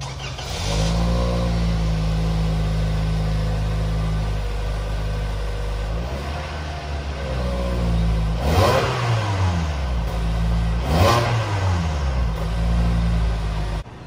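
A 2021 Toyota Camry LE's 2.5-liter four-cylinder catches and settles into a steady close idle, then rises in two sharp revs that fall back to idle, with no one speaking.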